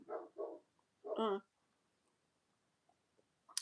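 Dogs bark indoors in a few short, sharp bursts, two quick woofs followed by a longer, louder bark, then quiet with faint rustling.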